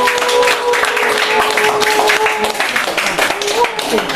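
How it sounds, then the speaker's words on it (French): A group applauding during a religious prayer gathering, with clapping running steadily under loud voices and a sustained tone, the hands blending into a dense, continuous patter. "Il faut applaudir."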